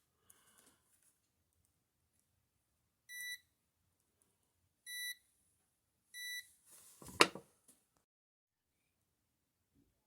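Three short, evenly spaced electronic beeps from an ELECALL EMAX3 multimeter on its continuity test, each clear and close in an otherwise quiet room, followed by a brief rustle.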